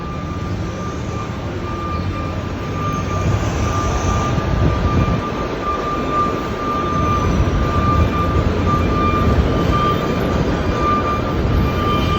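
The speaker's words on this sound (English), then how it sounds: "But I'm about to go hop on this train right now." A train on an early-morning elevated line along East Tremont Avenue in the Bronx, New York City, making a loud, steady, broadband rumble with a faint high whine, running continuously without voices.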